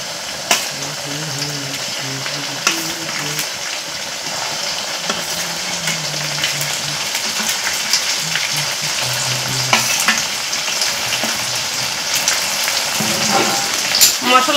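Onions browned in a pan, then ground spice paste added, sizzling and frying steadily at close range with scraping stir strokes and occasional clinks of a spoon throughout.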